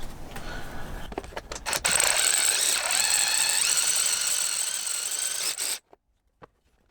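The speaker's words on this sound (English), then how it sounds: "let's take the bottom bolt out" A tool whirs steadily for several seconds while removing the bottom alternator bolt on a BMW E46 M3 with an S54 engine, after a few sharp ratcheting clicks. It then cuts off abruptly, leaving near silence with one faint tap.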